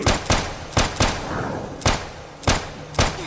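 Sharp gunshots in the Roblox video game, about seven loud, separate cracks at uneven intervals over a low background hum, with no speech.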